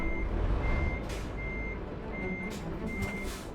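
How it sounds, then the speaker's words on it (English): A truck in a driving video game reverses, its steady high beeps repeating at an even pace over the loud low rumble of the engine. "Truck volume sounds way too loud."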